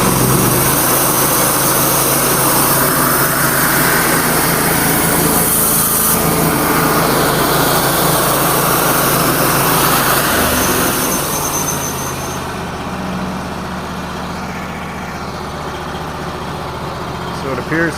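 Wood-Mizer LT35 sawmill engine idling, a loud steady high-pitched engine drone that drops and quiets toward the end, running alone without talk.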